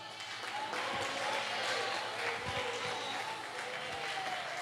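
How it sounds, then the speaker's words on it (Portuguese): A church congregation claps together at the close of a pastor's sermon, with steady, dense applause that holds from start to finish at moderate loudness. "Palmas"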